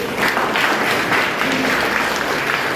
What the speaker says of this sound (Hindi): एक बार इसके लिए मैं तालियां चाहूंगा मोदी जी के लिए